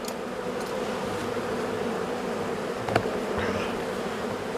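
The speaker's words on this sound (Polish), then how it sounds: "No jest masę młodych pszczół." Steady, dense buzzing of many honeybees on combs, a continuous hum close by with a brief tap partway through.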